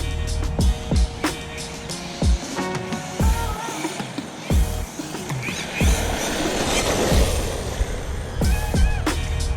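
An Arrma Kraton EXB RC car on racing slicks with a 2200KV motor and 3S MaxAmps battery runs at full throttle, its electric whine rising and falling in repeated passes amid outdoor noise and bumps.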